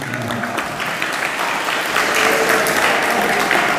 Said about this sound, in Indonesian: Masya Allah, tepuk tangan semuanya.